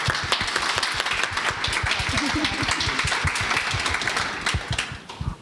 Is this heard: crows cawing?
no